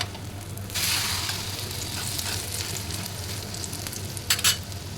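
Egg frying in sesame oil in a pan over a lowered flame, a steady sizzle throughout with a burst of louder crackle early on and sharp spits near the end, no voices.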